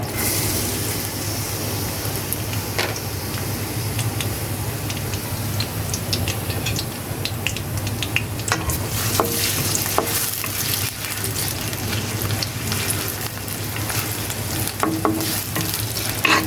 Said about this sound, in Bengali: তেল গরম হয়ে গিয়েছে এখন আমি পেঁয়াজ কুচিগুলো দিয়ে দিচ্ছি